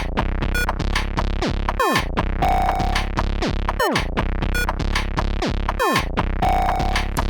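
A PO24 pocket operator synth plays alone: a thin, bright electronic pattern with pitched buzzy notes and repeated descending swoops in a steady loop.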